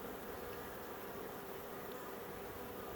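Honeybees buzzing steadily around a BeeWeaver queen being installed in a hive, a continuous faint hum with no voices.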